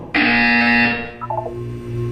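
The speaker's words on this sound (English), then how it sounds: "When you hear the buzzer, look down at the floor." A loud, flat electronic buzzer from the video game Portal 2 sounds once for about a second, then cuts off, leaving a low hum and a few soft blips.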